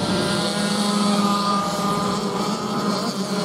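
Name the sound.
Clubman Lights race cars driving on circuit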